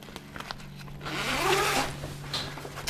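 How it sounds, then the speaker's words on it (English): A zipper on a small ski bag that comes with a dog sled is pulled open, a brief rasping run heard up close and alone. "it has a zipper."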